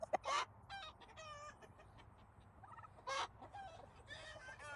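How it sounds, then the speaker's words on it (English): A rooster clucks and calls close by in short bursts, with quieter bird sounds and soft background noise between them. "Hello, random rooster."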